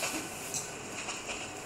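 A train rumbles and hisses steadily while being driven in the mobile game City Train Driver Simulator 2021, a soft continuous rolling wash with faint clicks and no voices.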